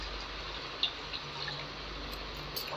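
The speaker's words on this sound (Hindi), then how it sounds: "अब मैं पानी डाल देता हूँ।" Water poured into a kadhai on a home stove, a soft steady splashing pour with a couple of small clinks, close and fairly quiet, with no talking.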